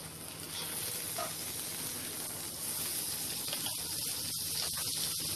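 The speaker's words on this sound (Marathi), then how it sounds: "इथे आपण पॅन गरम करत ठेवलेला आहे, त्यामध्ये आता आपण बटर टाकून घेणार आहोत" Butter sizzling in a hot pan before sandwiches go in for shallow frying, a steady close hiss that holds throughout with a few sharper crackles near the end.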